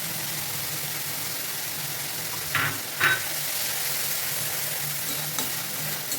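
Spice masala for pomfret curry fries in a pan with a constant, fairly loud hiss, broken by two or three quick scrapes of stirring near the middle; no voices.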